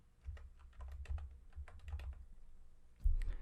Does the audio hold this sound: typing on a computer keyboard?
yes